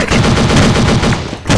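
Counter-Strike automatic gunfire rattles continuously at close range, a fast, heavy stream of shots with a brief gap before one last burst.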